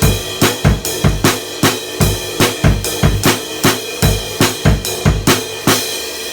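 A drum kit plays the chorus of a song in a steady rock beat, with a driving kick and snare pattern and cymbals washing over it, loud and close throughout with no talking.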